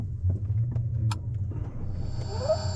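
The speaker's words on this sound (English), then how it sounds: "that whooshing noise, means that the car's ready, because it'll always start in hybrid mode" A Ferrari 296 GTB starting up in hybrid mode, with a low steady rumble joined by a soft rising whoosh and a thin high electric whine near the end; close and moderately quiet.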